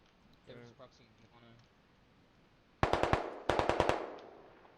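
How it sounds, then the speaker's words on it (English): Two quick bursts of automatic gunfire, each several sharp rapid shots, loud and close in a skirmish match on the Logar map, following a stretch of quiet speech. "Flanker shooting across the map at someone."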